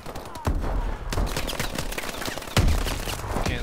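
Gunfire from a shotgun in Call of Duty: Advanced Warfare multiplayer, loud repeated shots and overlapping bursts in a dense battle mix, close and continuous with a few sharper blasts, with no talking.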